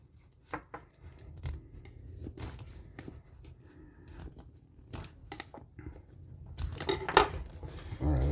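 Scissors snip into the plastic and taped packaging of a Ninja portable blender box: sparse, close clicks and crinkles with short pauses, rising to a louder rustle near the end.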